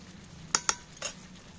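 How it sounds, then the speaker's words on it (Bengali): Fried potatoes tipped into a pot of mutton curry and stirred, giving two sharp utensil clinks against the pot followed by a brief scrape and sizzle over a quiet kitchen background. "এইবার ভেজে রাখা আলুগুলো তুলে দিচ্ছি।"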